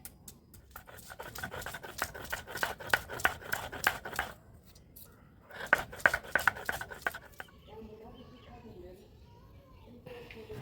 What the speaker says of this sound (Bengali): এইদিকে আদা রসুন পিষে নেই